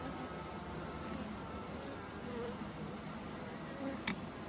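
Honey bees hum around a freshly hived swarm, a faint, even buzzing drone throughout with a soft click near the end.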